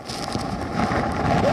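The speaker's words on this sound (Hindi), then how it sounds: "जैसे जैसे तूफान नजदीक आ रहा है, वैसे वैसे हवाओं की जो रफ्तार है वो बेहद ज्यादा हो गई है" Strong cyclone winds of Biparjoy on the Gujarat coast buffet the microphone in a steady, broadband roar that rises slightly in loudness over the short stretch, with no voices.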